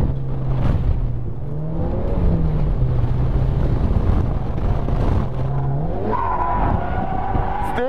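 A car drifts with counter steer, its engine note loud and close as it wavers up and down with throttle changes through the slide, then climbs sharply toward the end, over steady road and wind noise.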